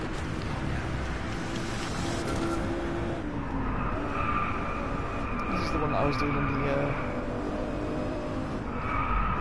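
An Audi R8 in the racing game DriveClub roars with engine noise and squealing, skidding tires while someone talks over it throughout.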